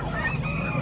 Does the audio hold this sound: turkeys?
yes